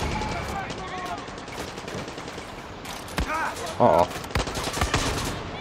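Bursts of automatic gunfire and scattered shots from the video game Far Cry 6 crackle through a steady game soundscape, with a sharp louder volley near the end and a player talking briefly.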